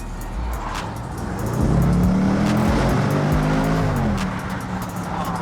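A Range Rover Sport SVR accelerating hard, its engine note climbing through stepped gear changes with loud, close rising harmonics and a brief dip between shifts, no voices over it.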